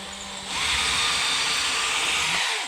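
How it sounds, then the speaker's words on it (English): A power drill pre-drilling holes into a wall stud for a closet system whirs steadily at high speed for about two seconds after a brief quiet start, loud and close. "let's pre-drill holes."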